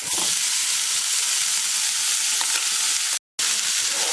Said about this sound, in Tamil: இந்த ஊற வச்ச அவலை இதில் கொட்டிடலாம்.